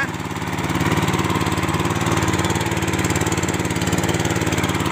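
Vega 90VX series engine idling steadily, a close, even mid-pitched putter with a regular pulsing rhythm that holds constant throughout, with no speech over it.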